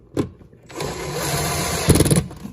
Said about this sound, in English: Take your screw gun.